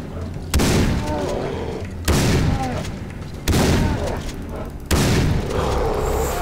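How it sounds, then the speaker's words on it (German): Gunfire in the shooter game Far Cry 3, set on the Rook Islands: four loud, sharp booming shots spaced about 1.4 seconds apart, each trailing off into a rumbling echo before the next. "Alter, sind das immer viele Schüsse für die Viecher."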